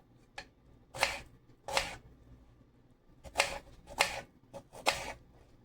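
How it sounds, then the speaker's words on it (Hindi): A knife chops cucumber into small slices for bhel puri, with several crisp, loud strokes on a board, some in quick pairs, separated by short pauses. "हम इसके कुकम्बर के जो है वो भी पीस हम स्लाइस छोटे छोटे कर लेते हैं"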